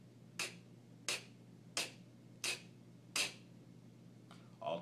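A mouth imitates a hi-hat in beatbox style with five quick, bright, hissy ticks spaced evenly about two-thirds of a second apart, close and quiet, then a faint breathy sound at the end.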